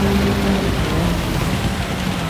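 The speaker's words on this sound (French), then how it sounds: "il pleut, on a les pneus pluie" Steady rain hiss from a wet race in the Gran Turismo 7 racing game, a constant dense wash with a faint engine hum underneath, loud and unbroken with no talk.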